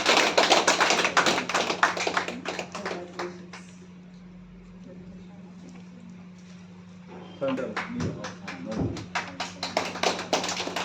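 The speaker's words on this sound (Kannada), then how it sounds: "ಎಲ್ಲರೂ ಒಂದು ಜೋರು ಚಪ್ಪಾಳೆ ಹೊಡೆಯಿರಿ." An audience at an award ceremony for a state service honour breaks into applause: a dense burst of clapping fades after a few seconds, quiet follows, then a second round of claps rises again.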